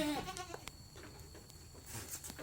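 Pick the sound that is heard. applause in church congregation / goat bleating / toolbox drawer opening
goat bleating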